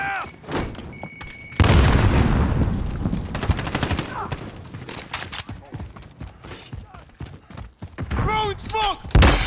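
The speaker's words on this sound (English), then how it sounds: "Grenade out!" Grenade blast in a tactical shooter video game, a loud boom early followed by rattling gunfire and scattered impacts, with people talking over the action.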